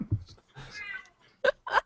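A house cat meows a few short times between bits of conversation, the calls clear and fairly close, with people talking around them.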